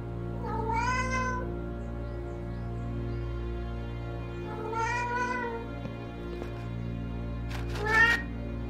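A cat meows twice in the video game Alfred Hitchcock Vertigo, each a drawn-out, clear call a few seconds apart, over a steady low hum, with a brief sharper cry near the end.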